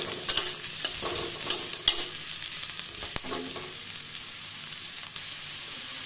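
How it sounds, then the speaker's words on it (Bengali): Mixed vegetables fry in a pan for white sauce pasta, a steady close sizzle with occasional scraping stirs and clinks, no voices present. "এই ভেজিটেবিল যত আছে সেগুলো দিয়ে দেবো। এগুলোকে এখন ভালো করে ভেজে নেব।"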